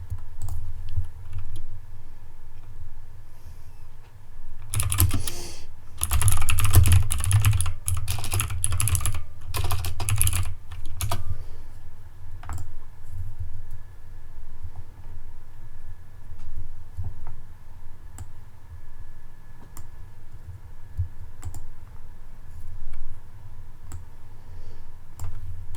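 Someone types on a computer keyboard in a rapid burst of dense key clicks for several seconds, then only sparse, quiet taps follow against a low background hum.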